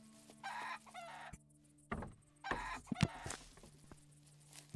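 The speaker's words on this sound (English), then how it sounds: "What about your chickens?" Chickens cluck in the video game Above Snakes, quiet and intermittent, with short clucks and squawks separated by pauses and some low game background noise.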